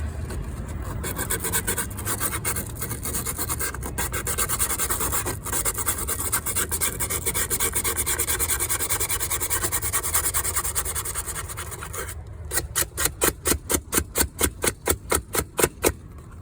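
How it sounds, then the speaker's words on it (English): Steady, continuous sanding scrapes up close from old, worn sandpaper on a camper trailer for most of the clip, then shifting into a series of quicker, separate rasping strokes near the end. "See, this is some old sandpaper. It's already falling apart."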